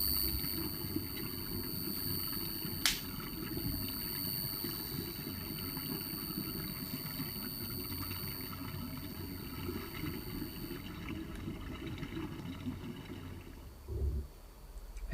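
Liquid drains from a process vessel in an industrial control system, a steady low rushing, gurgling flow heard close and alone, briefly surging and then dropping away near the end.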